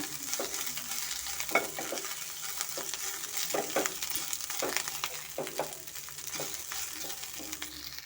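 Mint and coriander fry in oil for a village-style mutton kaima unde saaru, a steady sizzle running throughout while a spatula scrapes and stirs in repeated strokes, close and moderately loud.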